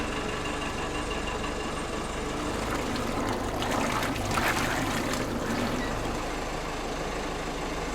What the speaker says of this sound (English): That engine is purring.